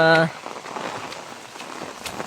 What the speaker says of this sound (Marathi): पाऊस आहे, सरीवर सरी येत आहेत.